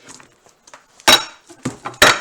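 A kitchen knife slices the bottom off a large onion on a cutting board, giving a few sharp chopping knocks, two of them loud and near, between softer handling sounds.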